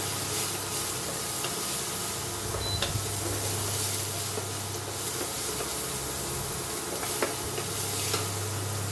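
Onion and garlic sizzle steadily in a pan with a teaspoon of oil for a kale and spinach stir-fry, a continuous close frying hiss with occasional faint stirring scrapes and a low hum underneath.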